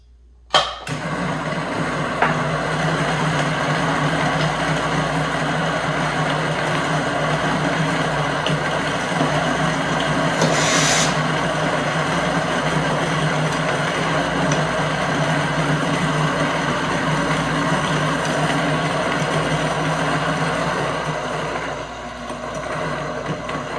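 An electric coffee grinder grinding 18 grams of coffee beans, a loud, steady whirring drone that starts abruptly and runs almost without change for over twenty seconds before easing off at the end.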